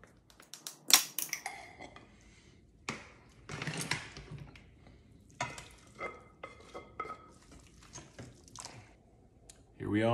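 Roast beef cooked in an Instant Pot is pulled apart with a fork and spoon, giving scattered scraping and clinking strokes at close range, some sharp and some soft, with short gaps between them.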